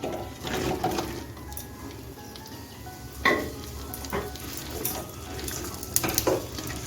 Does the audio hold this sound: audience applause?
no